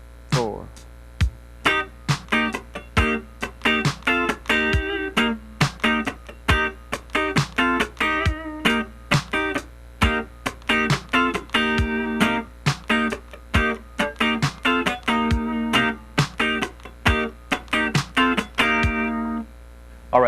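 An electric guitar plays a funk rhythm chord part slowly, with steady choppy strums and muted chord stabs in an even groove, clear and close with no talking.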